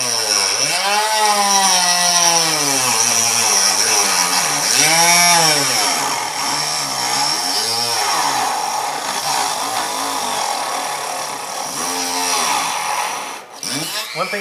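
A Dremel rotary tool cutting plastic on a Power Wheels Barbie Jeep, its motor whining loud and close. The pitch rises and falls repeatedly as the plastic catches and softens, with a brief scrape near the end.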